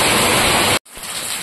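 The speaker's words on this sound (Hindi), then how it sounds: "एकदम से, खतरनाक सी बारिश हो रही है भाई एकदम।" Heavy monsoon-style rain pouring down outdoors, a loud, dense, hissing roar that cuts out abruptly for an instant and resumes slightly softer, with no voices.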